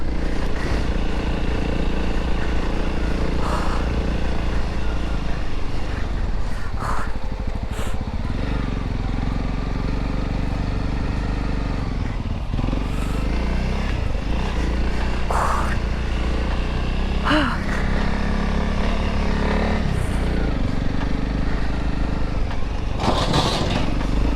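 A motorcycle engine runs steadily under throttle on a rough European mountain trail, a continuous loud drone with some rising revs and scraping noises from the ride.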